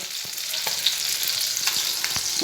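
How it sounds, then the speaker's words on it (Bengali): Steady, loud sizzling of spice-coated fish frying in hot oil, a continuous crackling hiss with scattered pops and a few light utensil taps. "এখানে এই যে মাছ ভাজা হচ্ছে মশলা মাখিয়ে মাছ ভাজা করছে"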